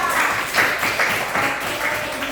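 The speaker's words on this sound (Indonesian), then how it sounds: "Silakan teman-temannya beri tepuk tangan dulu untuk Junita." Classmates in a school teaching-practice lesson clap for a pupil who answered correctly, a steady patter of many small hands that holds evenly for a couple of seconds.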